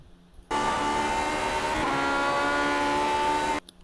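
A Lotus 49 race car in iRacing, driven near the top of fifth gear at Sonoma, gives a loud, sustained engine drone with strong tonal harmonics that dips briefly as the throttle eases. It starts and stops abruptly, alone without talk.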